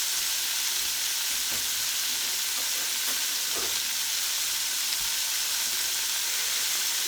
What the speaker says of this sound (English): And I'm going to saute those. And I hope to kind of caramelize the onions a little bit.